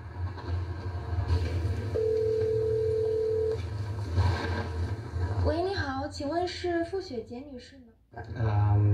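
A telephone call being dialed, with a steady electronic line tone held for about a second and a half, followed by people talking over the line.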